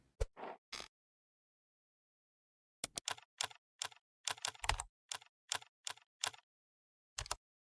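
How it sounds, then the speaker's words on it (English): Rapid bursts of computer keyboard typing, a short cluster of keystrokes, a long pause, then a steady run of distinct clicks in quick rhythm, close and fairly quiet with no talk. "Typing so slow, my guy."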